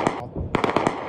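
Bursts of gunfire ring out during street fighting between the army and a paramilitary force in Khartoum, Sudan: a rapid string of loud, close cracking shots in quick succession.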